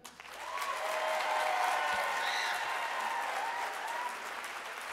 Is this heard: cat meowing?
no